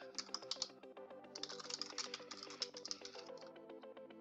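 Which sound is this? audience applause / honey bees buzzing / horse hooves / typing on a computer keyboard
typing on a computer keyboard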